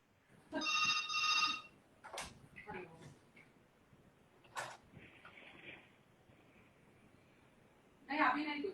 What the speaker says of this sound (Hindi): मेरा भी वो कोई इंटरकॉम बजा रहा है।